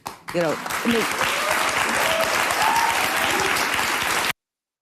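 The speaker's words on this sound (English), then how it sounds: "and she gets applause" Audience applause for a woman on stage, a broad steady clatter of many hands that rises quickly after a brief voice and stops abruptly.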